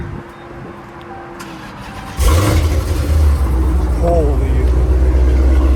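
A Dodge Hellcat Redeye with a titanium exhaust starts up with a sudden loud roar after a quiet stretch, then settles into a deep, rumbling idle close by, with a brief exclamation from a person.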